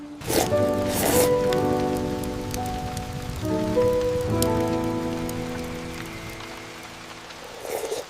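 Steady rain falls on a surface throughout, a continuous patter with a broad hiss over soft tonal music in a rural village home during dinner cooking.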